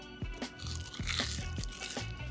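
Quiet, close crunching as battered fried General Tso's chicken pieces are bitten and broken apart, a series of crisp crackling snaps in quick irregular succession.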